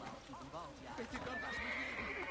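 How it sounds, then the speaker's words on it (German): A horse neighs and whinnies nearby in the video game Assassin's Creed Brotherhood, with hoof clip-clops and a voice talking faintly underneath. "Ich höre hier ein Pferd."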